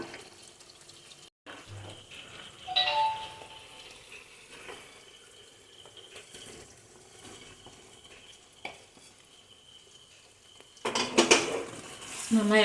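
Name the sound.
stirring fish pickle in a pan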